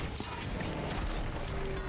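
A mechanical printer in the video game Risk of Rain 2 whirs and clatters with ratcheting, gear-like clicks, dense and continuous over about two seconds.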